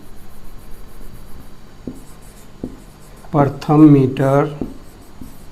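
Faint scratchy pen strokes as numbers are written by hand, a few soft taps, then someone speaks briefly over the writing before quiet scratching resumes.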